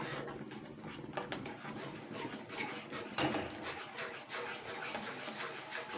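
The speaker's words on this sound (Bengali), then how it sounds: "এটাকে এবার নেড়ে চেড়ে নেব।" Lentil batter is stirred in a pot for a chickpea-dal fritter dish, giving a steady run of scraping, rubbing strokes with a few louder knocks against the vessel, close and continuous with no talk.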